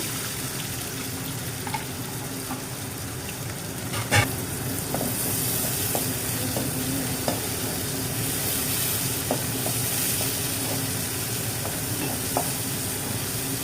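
Onions and whole spices such as cardamom and cinnamon sizzle steadily in hot oil for a vegetable curry, a continuous close frying hiss with occasional small pops and a stir or clink.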